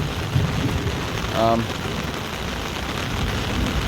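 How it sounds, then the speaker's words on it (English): Heavy rain pours down on an umbrella during a thunderstorm over flooded ground, a dense steady hiss and patter close overhead, with a brief voice-like tone in the middle. "it is pouring down rain"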